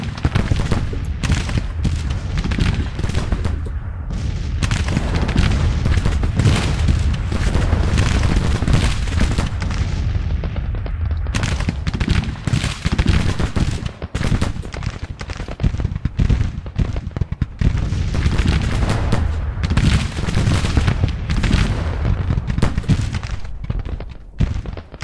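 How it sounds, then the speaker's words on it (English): Artillery fire rolls across a Civil War battlefield in the strategy game Grand Tactician: Civil War, with loud, dense booms and cracks overlapping continuously and barely letting up throughout. "I think the artillery's got good fields of fire there, so they seem to be finding targets."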